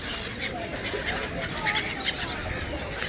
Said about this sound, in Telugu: ఎన్ని పక్షులు ఉన్నాయో.